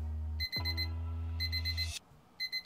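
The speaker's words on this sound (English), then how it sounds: "There's that audible alarm." A grill thermometer monitor sounds its temperature alarm in loud, close bursts of rapid high beeps, with a pause before a final short run of beeps over a low steady hum.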